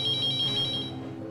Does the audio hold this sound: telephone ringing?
yes